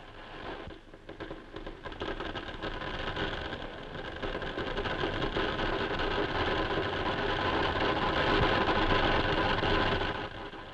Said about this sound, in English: The weld commences.